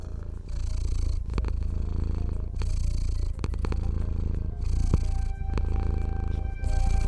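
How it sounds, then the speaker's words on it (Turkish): A steady, low rumbling cat purr, close and continuous, with a rhythmic breathing pulse and no voices. "Kediler zaman zaman mırıldanırlar."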